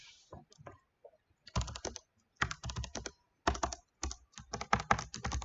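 Computer keyboard typing in rapid bursts, clusters of quick keystrokes separated by short pauses, close and clear with no talking over it.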